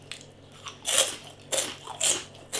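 Salt and vinegar pork puffs, light crispy pork rind, crunched between the teeth close up, four or five loud bites and crackles in quick succession with no talking.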